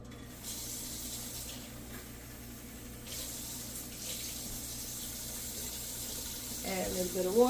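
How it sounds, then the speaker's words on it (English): Tap water runs steadily into a ramen pot holding sautéed kale, a continuous broadband rush at moderate level, with a brief change in pitch near the end as the pot fills. "Add a little bit of water."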